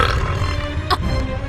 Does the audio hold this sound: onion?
no